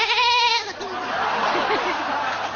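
A goat bleats loudly and close, a wavering, strained cry at the start, followed by softer rough bleating and faint background voices.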